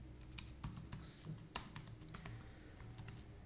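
Soft, fairly quiet typing on a computer keyboard, a loose run of irregular clicks with occasional sharper keystrokes, while setting up a LAMP web server on Linux.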